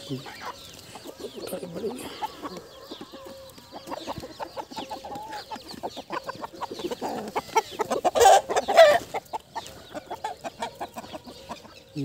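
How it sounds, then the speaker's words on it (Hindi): Several Aseel chickens cluck and squawk nearby on an open-area free-range farm, a busy, irregular chorus that swells near the end with louder, excited calls. "ये असील मुर्गा देखो ये असील मुर्गी असील मुर्गा है"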